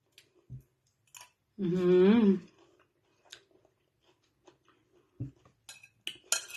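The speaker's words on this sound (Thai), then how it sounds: "บูเบอรี่พี่วุ้นใช้ช้อนตักเลยนะ มันจะตักได้หลายๆ ลูกไง" A spoon scoops blueberries from a plastic pack, producing light, sparse clicks and rustles close by, with a brief voiced hum partway through and a few sharper taps near the end.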